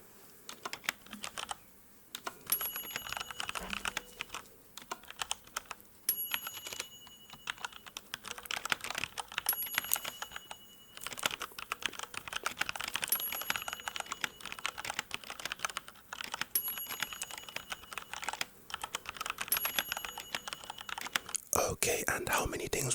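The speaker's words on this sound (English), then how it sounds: "you'll also be hearing some dings, and basically you just have to tell me how many you heard" Six faint high dings ring out at regular intervals of a few seconds during an ASMR hearing-test roleplay, sitting above constant close-up keyboard tapping and soft whispery noise.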